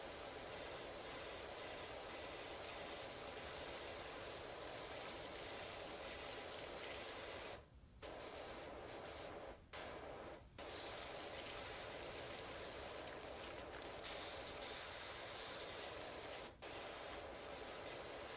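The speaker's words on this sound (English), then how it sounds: "Seems a little unusual to power wash a lawnmower" A pressure washer sprays a lawnmower in a video game, giving a continuous hissing spray that cuts out briefly a few times before resuming, with no talking.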